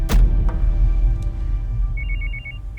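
A telephone rings in a dramatic indoor scene, a short electronic trilling burst near the end following a thump and a couple of faint clicks, fairly clear against a low room rumble.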